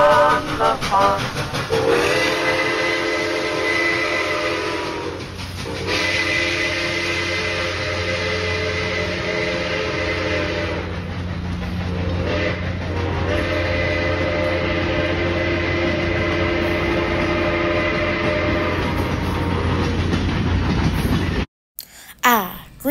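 Detroit and Lima Northern Railway No. 7, a 4-4-0 American type steam locomotive, rolls past up close at Greenfield Village, Dearborn, Michigan, with a loud, long whistle blowing in several blasts over heavy chugging and rail rumble.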